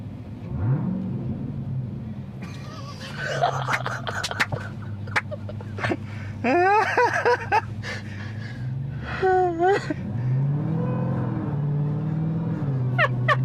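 A 707-horsepower 2018 Jeep Grand Cherokee Trackhawk rumbles at idle with a low steady drone, then sharp rev bursts rise and fall in a couple of swells, loud and close, with voices chatting and exclaiming over it.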